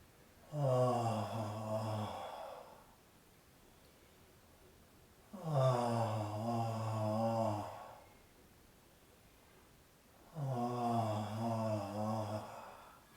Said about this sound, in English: on the exhale you move your head from side to side, not too far, making a moaning sound